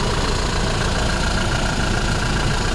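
A 2019 Toyota Innova Crysta 2.4 Z top-end model, with a 2400 cc diesel engine and about 156,000 km, idles up close. It gives a steady, even rumble with a fine mechanical clatter and no variation in pace.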